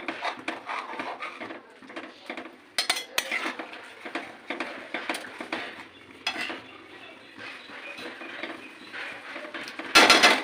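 A spoon scrapes and knocks repeatedly against a cooking pot as a Bengali shukto is stirred with a little ghee, making close, irregular metallic clinks and rattles with a brief louder clatter at the very end.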